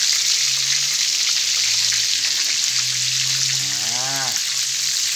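Shrimp coated in starch batter deep-fries in hot oil with a loud, steady, close crackling sizzle that runs unbroken throughout, and a brief faint voice-like tone near the end.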